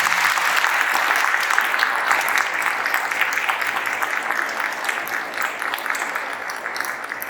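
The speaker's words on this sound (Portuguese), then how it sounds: "Uma salva de palmas ao Padre Gustavo." Audience applause welcoming a priest at a liturgical formation gathering: sustained, dense clapping from a crowd that holds steady throughout, loud and close, with no speech over it.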